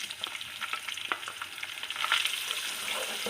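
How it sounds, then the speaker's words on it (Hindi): Onion frying with bay leaves and cumin in hot oil over raised heat, a steady close crackling sizzle with small pops throughout, growing slightly denser and louder toward the end. "इसको हमने सिर्फ 30 सेकंड के लिए फ्राई करना है।"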